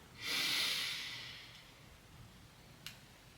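A person takes one slow, airy breath, a soft hiss that swells and gradually fades over about a second, followed by quiet and a faint tick, close and gentle.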